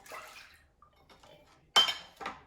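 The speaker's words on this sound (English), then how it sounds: "We start off with the milk and the water" Milk and water poured into a pan for choux pastry, heard as brief splashing bursts with a clatter of the pan, close and intermittent between quiet gaps.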